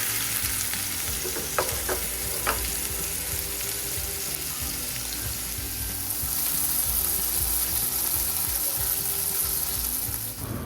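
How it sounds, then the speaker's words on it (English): Fish frying in a pan, a steady close hiss and crackle of hot oil with a few light clicks early on, the sizzle growing a little louder in the second half. "So our fish is getting fried"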